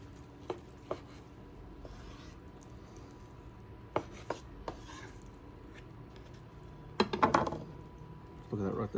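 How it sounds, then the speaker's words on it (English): A knife chops through smoked brisket on a cutting board, a handful of sharp, separate thuds spaced irregularly, then a scraping, rubbing burst near the end, all quiet and close. "we're gonna cut it in chunks"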